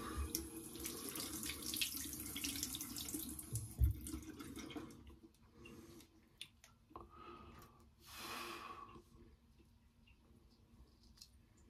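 A straight razor is rinsed under a running tap, water splashing into a sink fairly close for several seconds, with a brief knock and then a quieter trickle toward the end.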